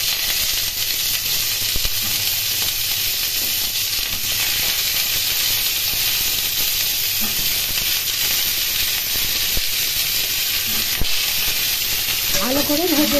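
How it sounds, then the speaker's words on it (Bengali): Pumpkin and cauliflower frying together in hot oil in a kadai, a loud continuous sizzle and hiss with scattered stirring knocks, and a brief voice near the end. "ফুলকপি ভাজা হয়ে গেছে, এর মধ্যে কুমড়ো দিয়ে দিলাম।"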